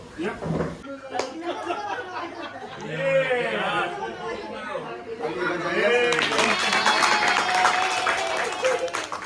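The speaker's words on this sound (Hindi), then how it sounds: "बजाइए ताली बजाइए" An audience at a magic garden show in Ganpatipule claps and cheers in a burst of applause, following loud talk from a performer and chatter from the crowd.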